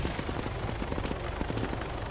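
Rapid bursts of automatic gunfire from the Arma 3 battle game, dense and continuous over about two seconds, loud and noisy with no talk.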